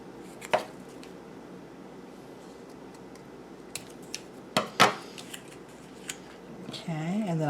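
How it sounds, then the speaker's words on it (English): Paper corners being trimmed with scissors on a gusseted folder, with a few sharp, close snips spaced out over a quiet room background. "I'm just going to trim these corners."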